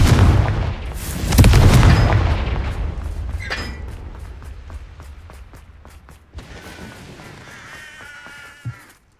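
In the Hogwarts Legacy video game, a Confringo fire spell bursts into a loud booming blast that trails off into a fading rumble, followed by quieter game effects and a small thump near the end.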